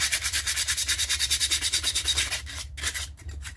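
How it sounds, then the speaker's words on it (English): Sandpaper rubs the rough bits off a Troy-Bilt variable speed pulley, a close, rhythmic back-and-forth scraping of about seven strokes per second that slows and breaks up near the end, with no talking. "So all you have to do to clean that up a little bit Take any sandpaper."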